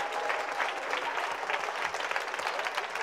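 Audience applauding for Louis at a keynote talk, a steady dense wash of clapping that holds loud and even for the full stretch with no voices over it.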